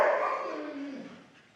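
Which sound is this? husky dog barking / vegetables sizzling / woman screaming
husky dog barking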